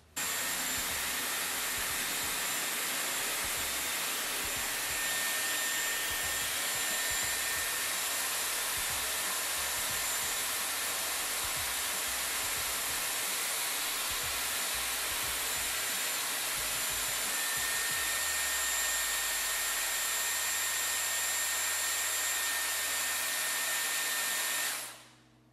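A Dyson Airwrap styler blowing hot air on thick, curly hair, a loud steady roar with a high whine held nearly unchanged for about 25 seconds before cutting off abruptly.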